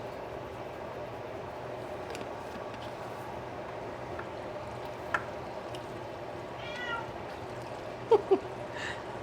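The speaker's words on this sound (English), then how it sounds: "She's such a good little kitty." A cat gives a few short, faint meows near the end over a quiet, steady room hum.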